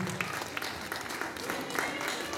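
At a tribute concert, the crowd applauds the sound and lighting crew, a fairly faint, steady wash of clapping that runs throughout with a voice faintly over it.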